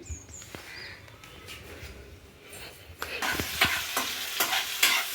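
Tomato and potato fry in a pan in a village kitchen, a soft sizzle under scraping stirring strokes that grow louder in the second half, with faint bird chirps in the background.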